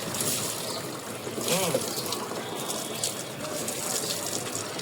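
Water splashing and trickling steadily while washing dusty children's bicycles, a continuous close wash with a brief louder gush partway through and faint talk in the background.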